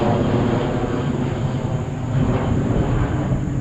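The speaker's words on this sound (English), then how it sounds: "on the back side here, as you can see, there is of course there's a plane" An airplane passing over a foreclosed property, heard as a loud, steady broadband engine roar that fills the whole stretch without pause, close and sustained, with no speech on top.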